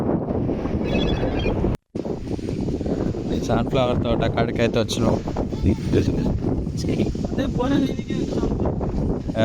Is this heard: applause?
no